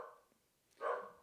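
A dog named Rocket gives a single short bark indoors near a slightly open window, following a quieter stretch with faint background noise.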